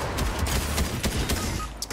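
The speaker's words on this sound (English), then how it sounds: "the shotgun's so slow!" Shotguns fire in a Fortnite Chapter 3 match, a loud stretch of repeated booming blasts and gunfire packed into two seconds, with no talk over them.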